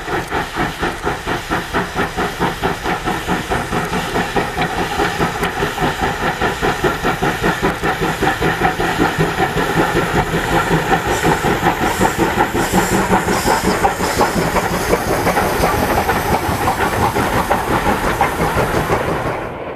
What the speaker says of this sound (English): we visited Ukraine and found a whole new world of steam-hauled trains now open to